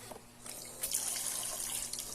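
Water runs from the tap of a toy kitchen sink, a soft continuous trickle and splash with small drips, fairly quiet and close.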